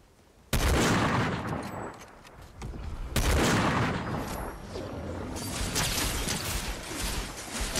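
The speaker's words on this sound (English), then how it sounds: "someone's shooting at me" Heavy video game gunfire erupts suddenly in a shooter match, dense volleys and booming shots rolling on continuously with a second loud surge midway, close and loud, no talking.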